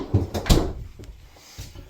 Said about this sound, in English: Underneath in the freezer area, we got 2 drawers that'll pull out and an ice maker that's built in as well.